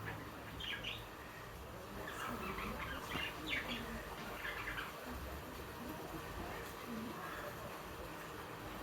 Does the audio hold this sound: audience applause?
no